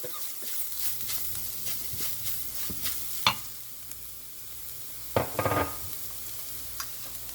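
Garam masala, pepper powder and chilli flakes sauté in a pan for potato roti, with a soft, low sizzle broken by a few louder stirring scrapes and clatters.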